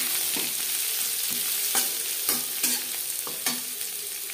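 Chopped onions fry in refined oil with a bright, dense sizzle, punctuated by several sharp spatula clacks and stirring scrapes against the pan, close and without talk.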